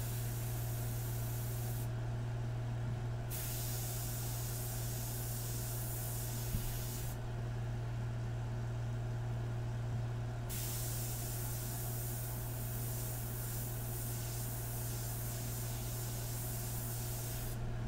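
An airbrush sprays India ink onto a portrait, giving a steady soft hiss that holds throughout, with a constant low compressor hum beneath and brief pauses in the higher spray noise.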